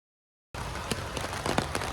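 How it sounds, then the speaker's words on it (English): Steady rain pattering on a surface while someone walks home, a dense hiss broken by irregular drips and taps that starts abruptly and stays loud and close, with no talk. "The boy is definitely walking home in the rain."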